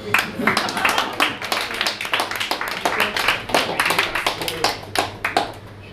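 Audience clapping in the Artefakt club, a steady run of sharp hand claps with a low hum underneath and some talk mixed in, moderately loud throughout.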